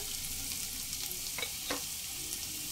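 Chopped medium onions frying in a pan while cooking mung dal with a katla fish head, with a steady hiss of sizzling oil and a couple of brief stirring scrapes, close and moderately loud.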